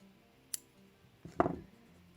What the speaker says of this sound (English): I'm gonna cut the yarn